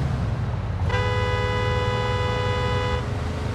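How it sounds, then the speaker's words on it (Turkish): A car horn in the video game Mafia II blares in one steady, sustained honk of about two seconds over a constant low engine and road rumble, with no talking. "Öyleyse korna çalıyorsun ki bana baksın diye."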